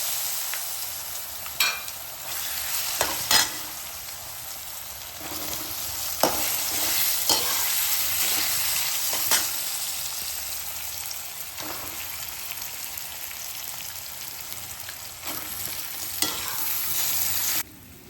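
Bottle gourd muthiya frying in a tempering of oil with curry leaves and asafoetida, a steady close sizzle with repeated scraping stirs throughout.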